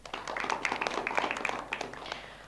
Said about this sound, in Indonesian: Boleh tepuk tangan kembali?